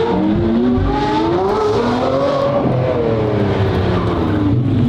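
Deafening Porsche engines roar loudly and continuously up close, with revving pitch that rises and falls over the full stretch and faint tire noise mixed in.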